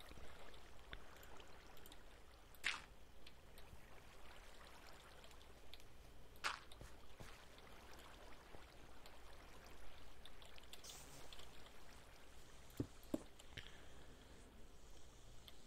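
Water trickles and flows steadily near a set of stairs, a faint continuous running wash broken by a few sharp knocks and clicks, with no talk.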